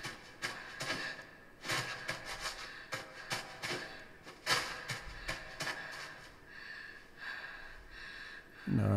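Boy character in the video game INSIDE breathing quickly, a run of rapid, rhythmic, breathy inhalations and exhalations with some rubbing effort sounds, close and fairly quiet, no talking.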